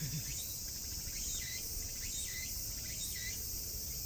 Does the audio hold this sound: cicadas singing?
yes